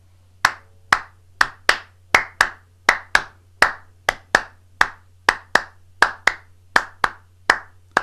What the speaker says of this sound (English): this is a 2-bar pattern, and you will instantly recognize this because rhythmically it's one of our cascaras that we've clapped in the past